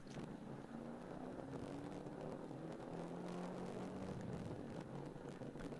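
A Ford Ranger team's car in the ChampCar 14-hour endurance race at Sebring passes at a distance. Its faint engine note climbs and then holds beneath steady wind and background rumble.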